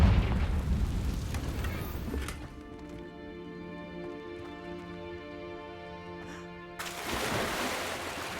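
The Confringo explosion spell in the Hogwarts Legacy video game: a loud rumbling blast fades into a tonal humming lull, and then a second burst of noisy crackle follows near the end.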